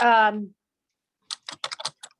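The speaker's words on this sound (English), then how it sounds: "I'll just stop typing" Keystrokes on a computer keyboard during an online call: a brief voice at the start, a pause, then a quick close burst of several sharp key clicks.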